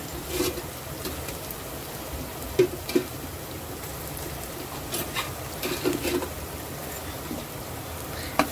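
A spoon scrapes and stirs a mutton curry base of fried onions and pounded ginger-garlic paste in a pan, soft sizzling under a few louder clinks of the spoon against the pot, with no one talking.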